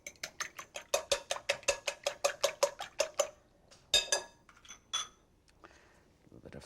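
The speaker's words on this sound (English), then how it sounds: "Let me just whisk the eggs before I do that." Eggs being whisked in a bowl: a rapid, steady run of about twenty metallic clinks against the bowl, followed by a few louder scattered taps and knocks, close and clear with no voice over it.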